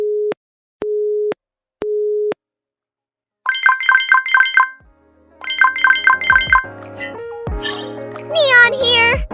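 A phone rings in the game NIKKE: three evenly spaced electronic tones, then two bursts of bright rapid ringing chimes, with a character's voice and game sounds mixed in near the end.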